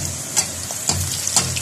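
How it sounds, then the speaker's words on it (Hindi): Puri frying in hot oil for halwa puri, a steady sizzle with a few brief louder spurts as the dough bubbles, close and alone without any voices. "इसमें हम डाल देंगे पूड़ी, एहतियात से डालें, हाथ में ना डालें,"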